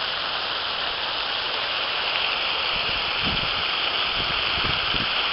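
Steady rushing water fills the whole clip, a continuous broadband hiss like a fountain or small waterfall close by, with faint low thumps underneath.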